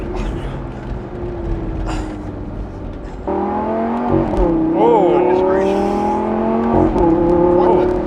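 A Lamborghini Gallardo Performante pulls hard in its Corsa track mode, the engine droning then jumping up with a shift and climbing through loud, revving acceleration, heard from inside the car alongside some talking.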